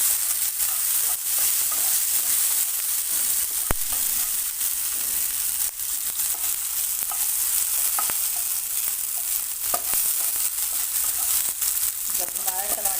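Tomatoes frying in a hot pan on a gas stove while making a vrat thali, a steady, continuous sizzle with occasional stirring clinks and scrapes, close and fairly loud throughout.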